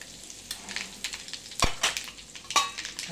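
Mustard seeds crackle and spit in hot oil with asafoetida, a series of sharp pops and bursts over a steady sizzle, close and fairly loud, with no talking.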